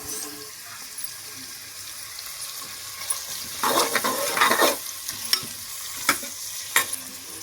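Washed mint leaves dropped into a hot pan, giving a soft wet sizzle that swells into bursts of scraping and stirring, with sharp clicks of the utensil, close up and without talk.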